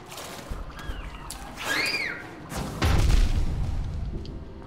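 A few dull booming explosions rumble low in Hollow Knight, with splashing water and faint high chirping tones in between, fairly loud and close.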